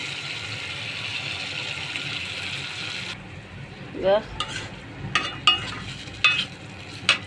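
Onion masala being stirred and cooked down in a pan after milk is added, a steady sizzle that drops off, then a series of sharp spatula scrapes and clacks against the pan, close and moderately loud.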